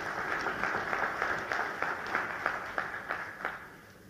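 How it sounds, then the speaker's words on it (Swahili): Applause from the audience at a formal Tanzanian state ceremony, a steady wash of many hands clapping at moderate distance that fades slightly toward the end, with no speech over it. "Makofi kwa Mheshimiwa Ndumbaro."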